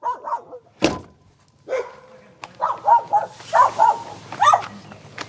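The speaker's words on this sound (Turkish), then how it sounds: "köpekler geldi." Several dogs bark in short bursts, fairly close, at a tent campsite in a deserted forest, with a loud thump early on and people talking quietly over the barking.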